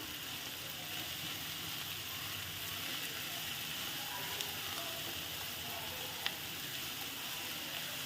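Onions frying in a pot, a dense continuous sizzle and crackle with a few tiny pops, steady and close, with no talking over it.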